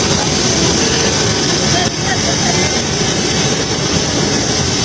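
A loud, continuous airplane jet engine roar with a high whine dominates, heard close by, with a brief dip midway before the steady noise resumes.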